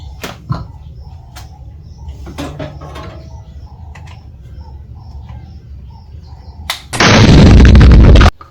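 A loud, sustained explosion sound effect bursts in near the end and lasts about a second and a half, following a quieter stretch of faint clicks and taps during a plasma ball project.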